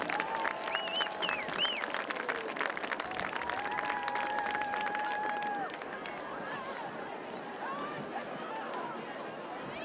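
An audience at an Andover High School football game against St. Francis applauds the Andover cheerleaders and bands, with dense, steady clapping and a few whistles that stay loud for about six seconds and then ease slightly while continuing.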